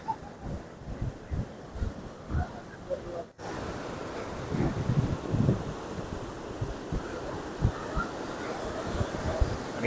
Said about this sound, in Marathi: आणि त्या लाटा बघा काय उसळत आहेत.